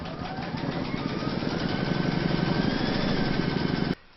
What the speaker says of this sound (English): Pop your hoop into your machine and stitch round number 6 to secure it.